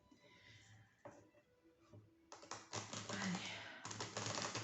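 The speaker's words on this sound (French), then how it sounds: "Allez, je mélange un petit peu." Oracle cards are shuffled by hand, at first as soft, sparse taps and then as denser, brisker papery riffling bursts, heard up close.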